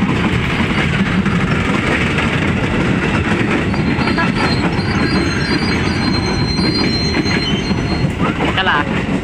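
A KRL commuter train rolls through a station, its wheels squealing and rumbling loudly and continuously at close range, with a faint clickety-clack and brief voices in the background.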